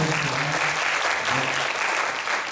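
A church congregation bursts into sustained applause, a dense, even wash of many hands clapping at once, loud and close for a few seconds with no talking over it.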